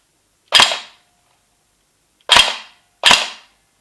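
Taidi Toys LK58 FAL gel blaster firing semi-auto, three sharp, loud cracking shots: one, then a pause of nearly two seconds before two more in quicker succession, each ending in a short metallic decay, with no talking.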